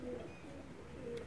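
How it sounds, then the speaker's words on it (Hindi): A Sialkoti green pearl pigeon giving a soft, brief coo, faint and close in a quiet setting. "ये सियालकोटी एक सब्ज़ मोतियों वाला कबूतर है"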